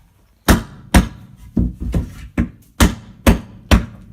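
A hammer pounds chunks out of a mobile home bedroom fixture, giving about eight sharp, loud knocks in an uneven rhythm with short pauses between strikes and no talking.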